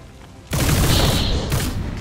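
A loud burst of rapid gunfire from a weapon in XCOM 2 erupts suddenly and rattles on for over a second, then tails off into lingering echoes.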